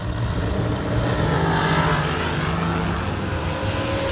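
Drag racing cars on a strip, a Hellcat in the left lane, a loud sustained engine roar that swells and holds without a break across the whole stretch, no speech.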